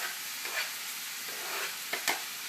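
Onion and carrots sizzle steadily in a pot, a continuous hiss with a few soft scraping stirs rising briefly above it.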